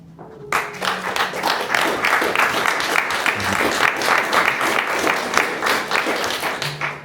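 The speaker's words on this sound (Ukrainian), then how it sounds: "Дякую за оплески." Sustained applause from a crowd at an art exhibition opening, dense clapping that starts abruptly and continues steadily at full volume for several seconds.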